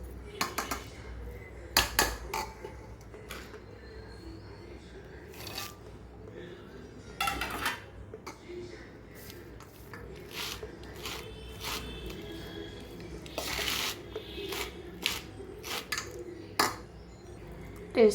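A spoon scrapes and clinks against a vessel while fried peanuts are mixed into gongura rice, making soft, irregular rubs and occasional sharp taps, close and quiet.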